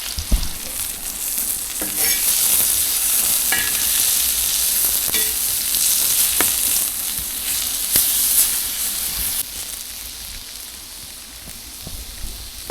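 Pasta fries in a pan in a village kitchen, a steady loud sizzle and hiss broken by the scrape and clatter of stirring.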